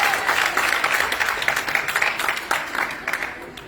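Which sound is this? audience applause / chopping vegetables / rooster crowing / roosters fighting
audience applause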